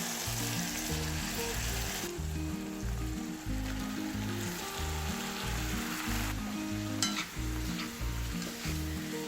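Boiled bottle gourd and prawns stir-fried with shallots in oil in a pan give a loud, steady sizzle with constant stirring scrapes, and no voices.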